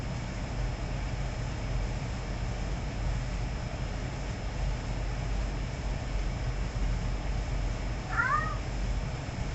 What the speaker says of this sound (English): Now the cat's up.